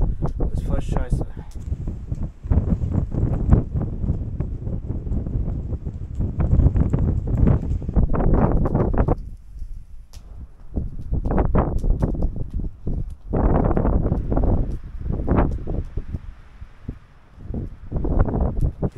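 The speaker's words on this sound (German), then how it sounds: "Richtig kalter, nasser Wind hier durch." Cold, wet wind gusts through snowy mountains during a snowstorm, a steady rough roar buffeting the microphone beneath near, almost continuous talking.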